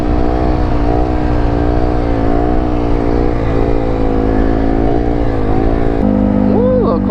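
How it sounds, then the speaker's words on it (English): A small quad ATV engine drones steadily close by with a rising and falling rev pitch, loud and continuous throughout at a busy dirt bike riding spot, with a brief voice near the end. "Ooh, little quad coming in."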